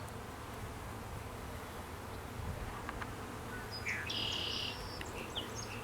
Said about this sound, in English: I'll blow the bees away.